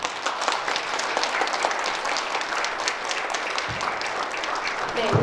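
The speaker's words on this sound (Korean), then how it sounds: "여러분 큰 박수로 맞이해 주시기 바랍니다" Audience at a Korean breakfast lecture clapping steadily to welcome a poet to the stage, a dense, even patter of applause lasting several seconds at moderate volume.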